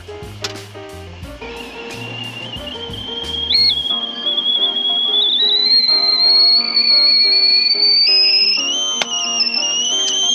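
A kettle on an alcohol penny stove starts to whistle after some clinking, a loud piercing tone that slowly climbs in pitch and holds for several seconds, close by.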